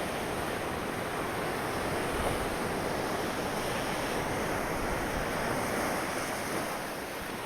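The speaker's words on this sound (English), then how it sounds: "The sound of the seas." Steady wash of ocean surf in Tenerife with gusty wind rumbling across the microphone, continuous and fairly loud throughout, no voices.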